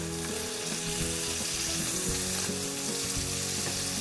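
Venison steaks sizzle and fry steadily in a hot pan, a dense, continuous crackle close by with no voices over it.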